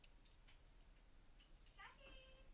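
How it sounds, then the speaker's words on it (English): Quiet, thin whimpering from a chihuahua, brief and faint against a low background hiss. "Quit barking."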